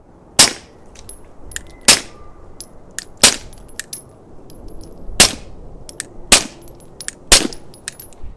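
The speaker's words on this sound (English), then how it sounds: "here's what those 9mm subs sounded like through the RAD 9." Seven sharp, evenly spaced 9mm subsonic gunshots fired through an OSS RAD 9 suppressor at an outdoor range, each a loud close crack with a short ring, separated by quiet gaps of about one to two seconds.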